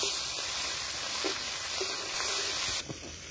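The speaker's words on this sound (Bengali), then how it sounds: "পেঁয়াজ একটু হালকা করে ভেজে নিচ্ছি।" Chopped onions frying lightly in oil with dry red chillies and bay leaves in a pan, a constant close hiss of sizzling with faint clinks, softening abruptly near the end.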